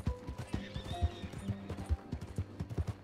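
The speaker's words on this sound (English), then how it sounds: "That a horse?" Horse in the Red Dead Redemption world, with repeated hoof clip-clops and a loud neigh and whinny up close, mixed with scattered thuds and no speech.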